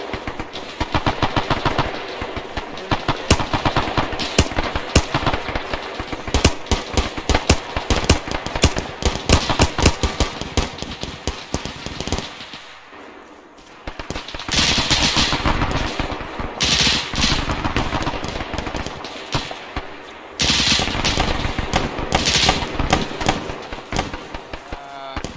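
Heavy machine gun fire rattles almost continuously through a video game battle, with a brief lull midway before more sustained bursts resume. Voices call out over the din.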